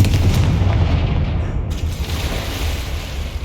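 A Confringo fire spell blast in the video game Hogwarts Legacy lands as a loud, close boom, followed by a rumbling, crackling tail that slowly fades.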